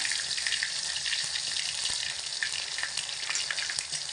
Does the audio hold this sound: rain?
no